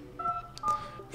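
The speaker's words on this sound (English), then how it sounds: "let's open the phone dialer, let's activate the keypad" Keypad tones from dialing a secret service code on a Nokia 7.1 phone: two short, clear beeps about half a second apart, close and steady, with faint room noise.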